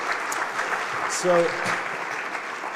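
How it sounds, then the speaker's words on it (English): Audience applause at a history festival talk on the Irish Civil War in Dublin, a steady broadband patter of clapping under continuous room noise, with a voice speaking briefly over it. "give them a round of applause because they've worked so hard,"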